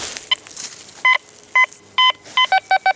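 A metal detector sounds a series of sharp electronic beeps over a buried target, about eight short tones of varying length, closer together toward the end, against quiet outdoor background.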